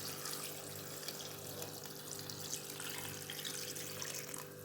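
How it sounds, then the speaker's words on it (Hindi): Water pours steadily into a pot of meat for Peshawari namkeen gosht, a continuous soft splashing and rushing stream heard close up with no talking. "अब हमने इसमें डाल देना पानी उतना जिसमें गोश्त अच्छे तरीके से डूब जाए।"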